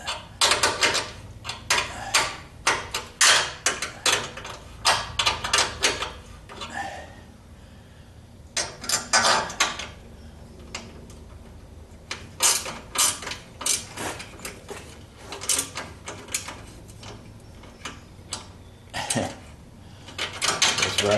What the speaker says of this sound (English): Ratcheting for a bit.